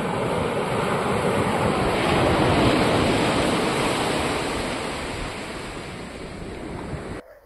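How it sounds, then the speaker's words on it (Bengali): Sea waves break and roll continuously onto Dublagadi beach near Balasore, a loud, broad, unbroken surf roar that swells slightly midway and then eases, with no voices. "সমুদ্রের ঢেউ আছে,"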